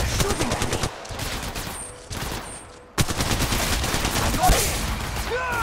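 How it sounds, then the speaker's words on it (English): Rapid automatic gunfire from a firefight in Apex Legends on Kings Canyon, loud and nearly continuous with short pauses, as a player speaks briefly over it. "They're shooting at me."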